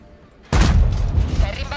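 Tank cannon fire in World of Tanks, a sudden heavy boom after a quiet start, followed by a loud rumbling, crackling decay with a voice talking over it.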